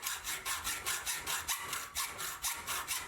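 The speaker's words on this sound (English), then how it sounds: "I thought I'd go ahead and use a hacksaw to cut the slot." Hacksaw cutting a slot in a small metal part, about a dozen even back-and-forth rasping strokes at a steady rhythm, close up with no voices.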